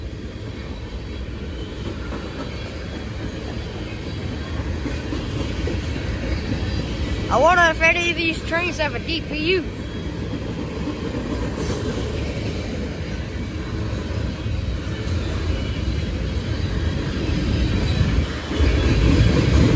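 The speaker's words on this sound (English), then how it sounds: "a morning freight. What this is, it's about 8 o'clock, maybe 9, maybe 10. Wow, these are new grainers" A BNSF freight train with new grain cars rumbles steadily past in Mulvane, Kansas, with clattering wheels, a wheel with a flat spot and a brief squeal, while a person talks nearby over the continuous noise.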